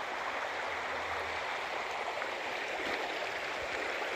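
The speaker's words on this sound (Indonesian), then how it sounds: "Sungainya sudah rata dengan air." A flooded river rushes past a village footpath in a steady, broad roar of flowing water that runs continuously and evenly at moderate distance, with no voices.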